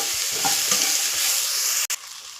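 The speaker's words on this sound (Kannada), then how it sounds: "ಇದನ್ನು ಸಹ ನೀಟಾಗಿ ಸ್ವಲ್ಪ ಚೆನ್ನಾಗಿ ಫ್ರೈ ಮಾಡ್ಕೊಳ್ಳಿ" Chopped ridge gourd frying in a pan with salt and turmeric, a steady close sizzle broken by soft scrapes and knocks of stirring, with one brief sharp drop near the end.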